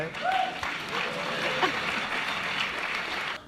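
An audience at a company meeting bursts into steady applause, a broad wash of clapping held at even loudness for a few seconds, with a faint voice cutting through near the start.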